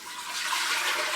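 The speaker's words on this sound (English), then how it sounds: "So again, let's add our water." Water pours steadily into a pot while soup is being made, a smooth rushing stream that holds at an even, fairly loud level throughout.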